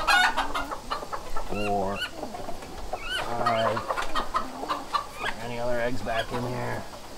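Hens clucking and cackling in a backyard flock where eggs are collected, several birds calling in overlapping bursts close by, with a person talking over them.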